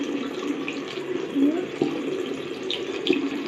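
Running tap water as something is washed under it, a steady close splashing flow with small clinks and shifts, and someone talking over it.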